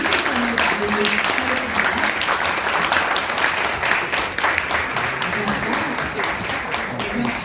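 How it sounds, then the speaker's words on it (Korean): An audience at a political talk concert in Korea gives sustained, dense applause, loud and continuous, with a voice speaking over it. "큰 박수 보내주시면서 이 세션을 마무리하겠습니다"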